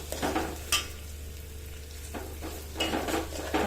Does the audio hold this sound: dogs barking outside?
no